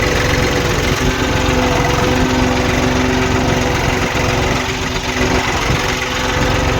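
A tractor engine runs nearby at a steady, loud, droning idle with a faint knocking vibration, and no one speaks over it.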